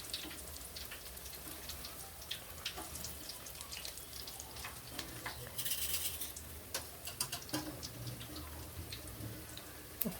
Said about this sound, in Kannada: ಎಣ್ಣೆಯಲ್ಲಿ ಅದು ಕಾಯ್ತಾ ಅದರದ್ದು ಬಣ್ಣ ಚೇಂಜ್ ಆಗ್ತಾ ಬರುತ್ತೆ.